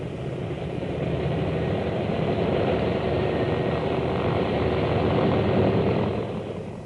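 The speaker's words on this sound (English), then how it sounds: "the planes raced back to their base with their high-priority cargo" WWII photo reconnaissance propeller planes race back to base in a steady, rumbling engine drone, loud and sustained, swelling slightly after the start and easing off at the end, with no voices.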